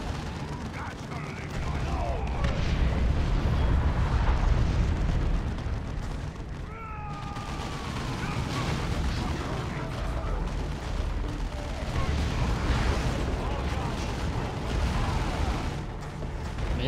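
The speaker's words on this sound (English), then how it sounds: "Here comes Thor with the ground pound!" Thor's ground pound in a hammer-themed video game bursts as a loud, rumbling explosion amid continuous dense game noise, with heavy low booms and clattering effects layered throughout.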